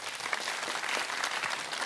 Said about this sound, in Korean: 힘내라고 박수 한번 주실까요?